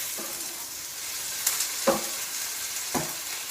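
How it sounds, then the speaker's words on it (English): Onion, parsley and basil fry in a pan with a soft, steady sizzle, broken by three brief utensil scrapes or clinks, close but fairly quiet and free of speech. "got that onion in there cooking down"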